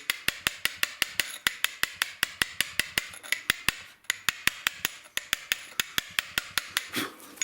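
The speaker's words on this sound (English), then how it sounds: "giving it harder taps, swinging the hammer slightly harder as we go through" Rapid, steady metallic taps of a hammer striking a chisel into stone, sharp and close, repeating evenly with brief pauses.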